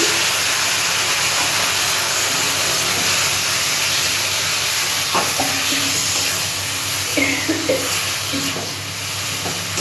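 Water poured onto ground spices frying in a pan hisses with a loud, steady rush of steam close by, with a few faint clinks toward the end.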